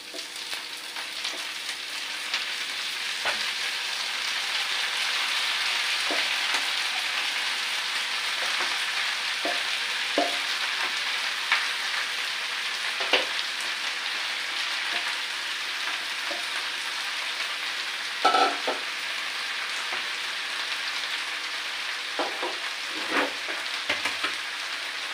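Red amaranth greens fry in a pan with a steady, dense sizzle, broken by occasional louder crackles and scraping stirs, close and continuous throughout.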